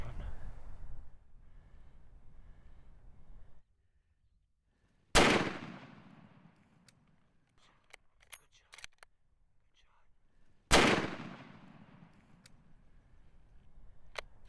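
Two loud, sharp rifle shots, about five seconds apart, ring out at a brown bear during a spring hunt in Alaska, each echoing and decaying in open country, with hushed voices murmuring between them.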